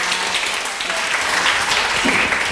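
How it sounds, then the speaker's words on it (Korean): Applause from a class audience for two assistant instructors at a flower-tea making workshop, a steady dense patter of clapping filling the short stretch with no speech. "이재선 선생님하고 이명선 선생님한테 박수 좀 부탁드리겠습니다."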